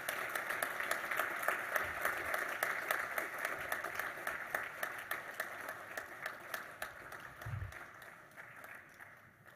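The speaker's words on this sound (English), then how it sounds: "And one final round of applause for Ron Maurer, please." Audience applause at an athletics hall of fame ceremony, a steady wash of many hands clapping that holds for the full stretch and thins slightly near the end.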